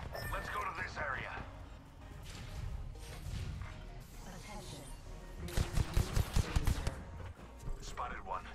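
Video game gunfire, a quick volley of close, punchy shots in the middle of the stretch with scattered impacts around it, heard under game voices and background noise.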